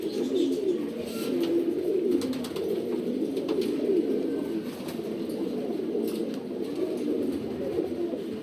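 Racing pigeons coo steadily on vaccination day, a dense, continuous low murmur of many birds close by with no voices.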